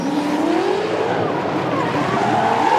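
A drift car at a D1NZ drift event at Mt Smart Stadium revs hard with tyres squealing and skidding, a loud, sustained engine roar rising and falling in pitch throughout.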